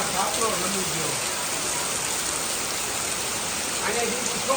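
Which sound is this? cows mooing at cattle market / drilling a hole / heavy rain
heavy rain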